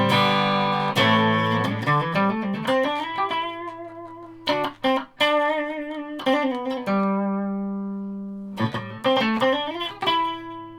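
Clean electric guitar with no pedals or distortion: notes and chords ring out with long, steady sustain, each held tone lingering for seconds before the next is picked.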